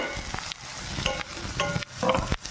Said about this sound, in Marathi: कांदा भाजून झालेला आहे. त्यामध्ये आता आपण टोमॅटो 1 अर्धा चिरून घेतलेला होता तो टाकूया.